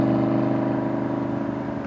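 An exotic car engine, a 2014 Maserati GranTurismo or a 2008 Aston Martin Vantage, revs in a steady, loud mechanical drone with a slight fluttering pulse as it downshifts, heard close and alone.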